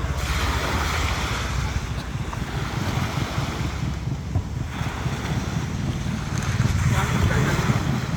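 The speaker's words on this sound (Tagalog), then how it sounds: "Lakas pa ng hangin." Steady, loud wind buffets the microphone over crashing surf, a continuous roar with faint voices underneath.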